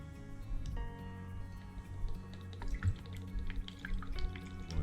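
Liquid mix of water, glue and alcohol poured into a snow globe, a steady gurgling and trickling pour with small drips and splashes, close by and fairly quiet.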